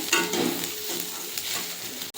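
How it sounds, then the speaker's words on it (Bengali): Green chillies frying with a mashed mixture in a pan: a brief close sizzle with quick stirring scrapes, ending in a sharp knock. "আর চারটে কাঁচা লঙ্কা দিয়ে দেবো একটু ভেজে নামিয়ে দেবো"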